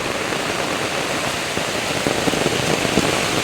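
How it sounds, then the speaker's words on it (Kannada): Heavy rain pours in a continuous broadband wash with scattered louder drop hits toward the end, steady and fairly close, with no talking. "ಅಂದರೆ ತುಂಬ ಮಳೆ"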